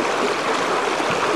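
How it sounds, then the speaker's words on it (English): Water flows in a wilderness creek in Alaska, a steady, close, full rushing and babbling that runs evenly throughout with no voices. "Sometimes it's just easier to walk right in a creek."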